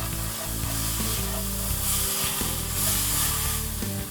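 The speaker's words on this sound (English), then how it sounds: "I gave it a nice sear. Now I'm gonna just flip it over." A seasoned steak, already seared, sizzles continuously in a pan as it is flipped, a moderate hiss and crackle with no talking.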